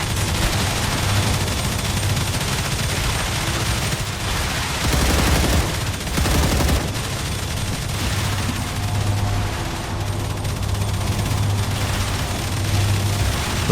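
Sustained gunfire in StarRupture, a continuous loud rattling barrage of rapid shots with heavier booming bursts mixed in, close and unbroken throughout with a low droning hum beneath.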